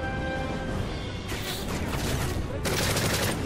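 Gunfire from the shooter game Modern Warfare 3, a dense burst of rapid shots and crashes filling the clip at steady loudness, heavier and brighter in the second half, with no voice over it.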